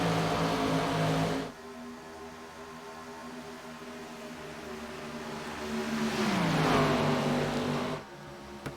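Race cars on an oval track at a late-model series night race, a steady engine drone with a loud car sweeping past mid-way, its pitch dropping as it goes by, then the pack fading.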